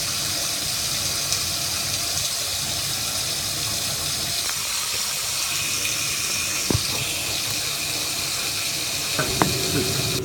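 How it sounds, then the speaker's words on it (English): Water leaks steadily from a tap connection under a bath, a continuous close trickle and hiss with a couple of brief knocks. "there's a leak under the bath"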